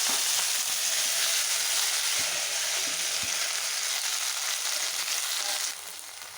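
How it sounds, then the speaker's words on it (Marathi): Fenugreek greens sautéed in oil in a pan give a loud, dense, continuous sizzle with a few faint stirring knocks, easing slightly toward the end. "भाजी अशी परतून घ्यायची"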